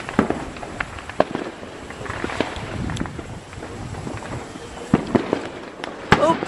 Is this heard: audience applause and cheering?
no